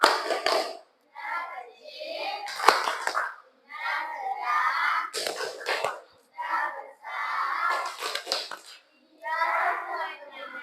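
A class of children performs a clapping chant led by a teacher, with bursts of hand claps and shouted chanting in repeated phrases separated by short pauses, close and lively.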